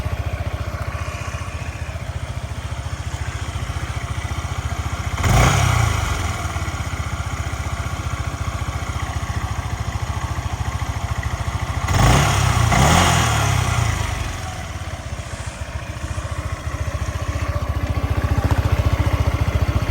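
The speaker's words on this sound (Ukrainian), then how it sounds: "Гарно, чистенько працює двигун." A Yamaha Majesty 155 scooter engine idles steadily up close, a continuous buzzing putter with two brief revs partway through.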